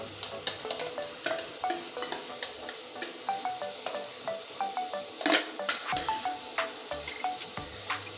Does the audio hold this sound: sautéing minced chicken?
yes